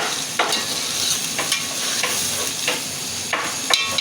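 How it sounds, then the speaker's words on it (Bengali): Spices for hilsa khichuri fry in hot oil with a steady sizzle while a spoon stirs and scrapes the pan in repeated light strokes, close up and with no talking. "মশলাটা আমি ভালো করে কষিয়ে নেব"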